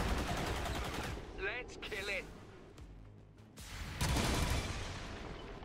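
Gunfire in XCOM 2, a few bursts of crackling shots and a whooshing impact at moderate volume, mixed with a voice speaking.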